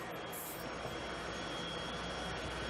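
A field of NASCAR stock car engines fires up at Dover, a dense, steady roar filling the whole stretch, loud and continuous with no talk over it.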